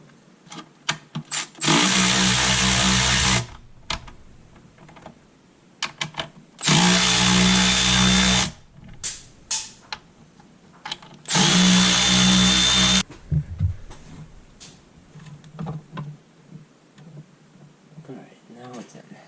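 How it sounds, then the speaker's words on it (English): Impact or power drill bursts loosening bolts on a Jeep 3.6L oil filter housing, three loud whirring runs of about two seconds each with quieter handling noises and talk between them. "So I gotta loosen all the bolts again."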